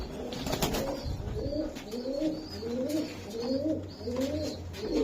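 Budapest pigeon chicks at a pigeon farm give a steady series of about six rolling coos, close by, with a faint rustle of wings and no talking.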